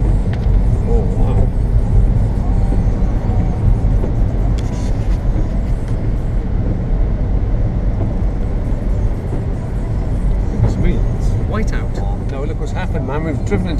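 A car drives through heavy, driving snow on open country roads. Its engine and road rumble form a loud, steady drone close by, and people talk over it.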